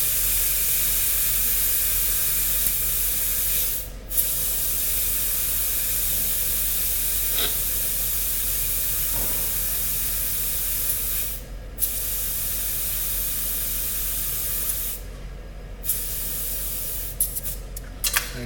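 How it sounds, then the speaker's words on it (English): Air hissing out of a dirt bike tire valve while the tire is let down to about 15 psi, in several steady bursts of spraying hiss separated by brief pauses, close and fairly loud. "I'm going to air it down to about, like I said, 12, 15 psi."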